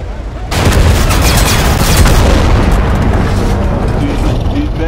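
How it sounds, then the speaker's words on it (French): In the video game Total Conflict Resistance, machine gun bullets burst into explosions. A dense, loud, continuous barrage of booming gunfire starts abruptly and keeps going at full intensity. "des balles de mitrailleuse qui font explosion"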